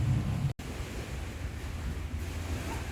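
Wind gusts across a beach in a steady, rushing wash with surf-like noise underneath, broken by one brief dropout near the start, with no voices.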